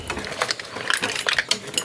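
Seafood being tossed in a Cajun seasoning sauce: close, light clinks and wet scraping against a bowl or pan come in quick irregular taps over about two seconds.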